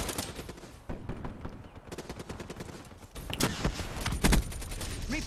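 Rapid bursts of gunfire in Call of Duty: Black Ops 3 crackle and rattle continuously, with louder clustered shots toward the end and no voices over them.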